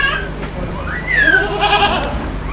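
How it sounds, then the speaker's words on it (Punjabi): A goat bleats several times in a rural Punjabi setting, wavering drawn-out cries close to the microphone, with low background murmur and no clear speech. "ਇਹ ਬੱਕਰੀ ਖੋਲ ਲੋ"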